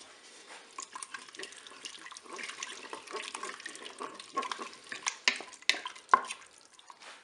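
Curry is stirred into pork in a Cookeo pot, giving irregular wet scraping and clinking of a spoon against the pot, growing busier and sharper toward the end, with no one speaking.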